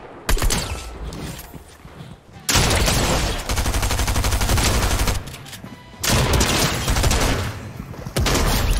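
Heavy gunfire in the Fortnite battle royale video game, with loud, dense bursts of shots broken by short pauses over several seconds and a brief stretch of quieter movement near the start.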